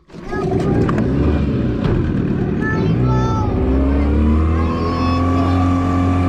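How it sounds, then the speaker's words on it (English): A boat's outboard motor on Lopez Lake starts with a brief sputter, then settles into a loud, close, steady running drone with shifting pitch as it revs; someone speaks briefly over the engine. "I'm gonna start the motor."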